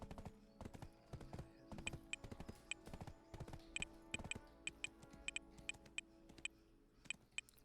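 Horse hooves clip-clopping in the video game Black Desert, a steady run of crisp, close hoof taps with sharp ringing clicks, heard alone without talk.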